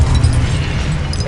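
A Confringo fire-spell blast in the Hogwarts Legacy video game, one loud, rumbling burst with a heavy low boom that fills the whole moment and tails off slightly.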